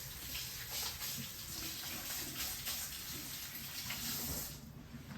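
Tap water runs steadily into a sink as hands are rinsed during baking prep, a continuous close splashing hiss that eases slightly at the very end.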